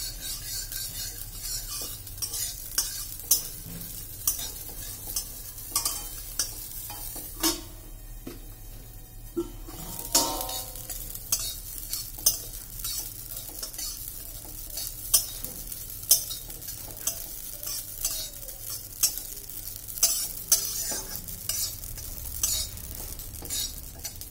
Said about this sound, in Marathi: पण आपल्याला हे कंटिन्यू हलवत राहायचं आहे